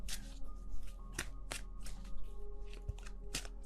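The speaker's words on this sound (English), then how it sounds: "let's put down the other cards" Tarot cards are shuffled and laid down by hand, a close, quiet sequence of crisp riffles and soft slaps in an irregular rhythm, with no voice.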